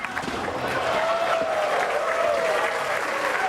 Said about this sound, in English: You hear the crowd's reaction.